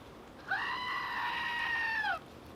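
A screaming goat sound effect: one long, sustained, nasal human-like bleat held for nearly two seconds, loud and alone before cutting off abruptly.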